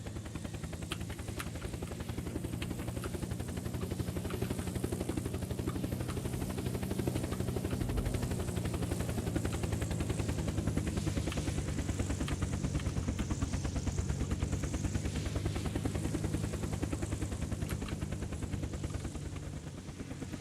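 A helicopter in the driving game BeamNG drones with a steady, dense rotor thrum and engine whine that hold at an even level from start to finish, with no voices over it.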